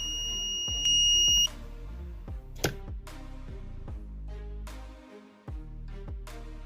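A high-temperature fire alarm buzzer in a student project setup gives a short, piercing electronic beep, surrounded by clunks, taps and handling knocks nearby.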